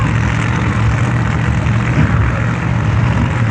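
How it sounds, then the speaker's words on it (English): A 1969 Camaro drag car backs up toward the starting line at a street-racing event at Bradenton Motorsports Park, its engine a loud, steady, deep rumbling drone throughout. "Mitchell from Hamptonville, North Carolina, backs that Georgia's 1969 Camaro up towards the starting line."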